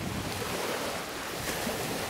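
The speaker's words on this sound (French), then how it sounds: "Le bruit des vagues me fatigue." Waves wash against a riverbank under violent wind, making a steady broad rushing noise, faint but constant and with no voices.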